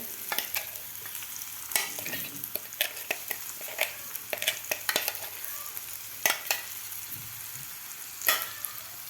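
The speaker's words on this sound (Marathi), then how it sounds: "आता डाळ आपल्याला व्यवस्थित परतून घ्यायची आहे गॅस आपल्याला मिडियमच ठेवायचा आहे" Ground lentils (watali dal) with turmeric frying in a pan over medium heat, a low continuous sizzle broken by frequent sharp scrapes and taps of a spoon stirring against the pan.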